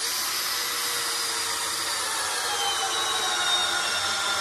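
Cordless drill driving a self-feeding auto burnishing system through a bushing, a steady high-pitched whir with a faint grinding edge that holds at even loudness throughout.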